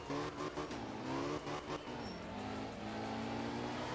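A Porsche rally car in retro Brumos livery racing a stage in Finland in the Art of Rally video game, its engine droning steadily, revving and shifting pitch, with faint tire noise throughout.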